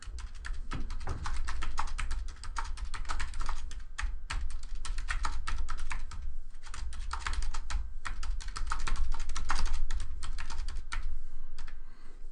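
Close, steady typing on a computer keyboard while entering text in a text editor, a dense run of quick clicking keystrokes with brief pauses between bursts, heard alone.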